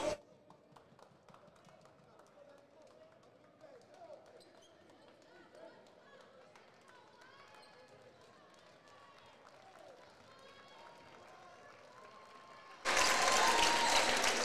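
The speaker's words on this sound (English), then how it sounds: "Crowd giving the Cougars a big hand." During a Highland versus Kankakee community college basketball game, faint court sounds and distant talk give way to a sudden, loud burst of crowd applause that fills the final seconds.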